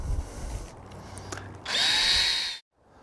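A power drill drives Phillips screws into a Bestop Trektop NX soft top on a 4-door Jeep JK Unlimited, sounding as a loud steady whir for about a second before cutting off sharply, after quieter handling noise.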